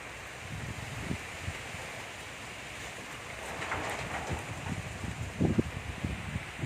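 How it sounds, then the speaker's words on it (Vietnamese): Heavy rain pours down outdoors in a steady, dense hiss, with occasional low thumps and gusts underneath and no talking. "Mưa này không biết chừng nào tạnh nữa nào."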